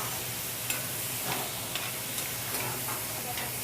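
Food for chicken long rice sizzles in a hot pan with water added, a soft continuous hiss and crackle with occasional light ticks of stirring, faint and steady with no talk.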